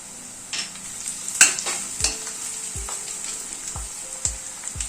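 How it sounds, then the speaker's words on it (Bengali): Chopped onion and three green chilies fry in a pan for a Bengali chole masala, a steady close sizzle with a few sharp stirring clinks and scrapes against the pan, no voices. "রসুন আর কাঁচা লঙ্কাটাকে আগে পেঁয়াজের সাথে একটু ভেজে নেব।"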